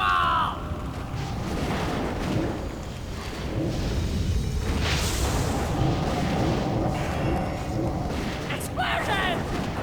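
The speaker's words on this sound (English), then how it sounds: "Explosions! More explosions! I gotta have more explosions!" Video game explosions rumble in a dense, continuous roar of booms and blasts across the stretch, fairly loud with scattered crackling debris and a brief high chirp near the end.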